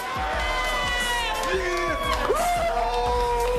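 Excited voices cheer and whoop at the 2020 NBA Draft as the New York Knicks pick Obi Toppin, a lively crowd reaction that stays continuous beneath an announcer talking over it.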